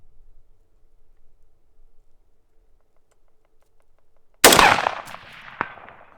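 A single loud crack from a rifle with an Aero Precision 20-inch upper breaks a quiet outdoor stretch, followed by a long rolling echo and a fainter second report a moment later.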